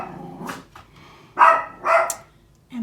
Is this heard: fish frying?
no